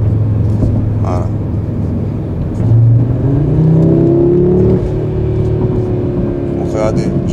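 A car switching into performance mode revs up, its engine note climbing into a strong rising drone for a couple of seconds before easing off, under someone speaking and some background noise.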